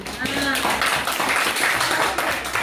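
Children clapping in a classroom during a teacher's lesson, a dense burst of hand claps running throughout under some children's voices.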